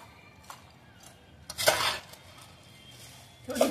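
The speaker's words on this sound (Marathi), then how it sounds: "छान मिक्स करून घ्यायची." Gilli Bhel snack is mixed in a bowl with a spoon, giving a few soft scrapes and two louder clattering bursts of utensil against the dish, close by.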